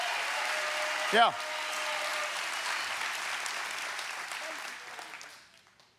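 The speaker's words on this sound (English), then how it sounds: "we need to clap our hands and celebrate that today" A church congregation clapping and applauding in celebration, sustained applause filling the room with a brief shout of a voice near the start, fading out toward the end.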